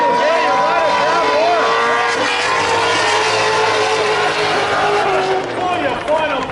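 A drift car's engine revs hard and continuously at a drifting competition, loud and close with sustained high-pitched wailing and pitch swings, a commentator's voice riding over it.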